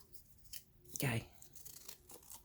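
Paper is torn by hand while making a journal page: one sharp, close rip midway, with faint handling rustles before and after.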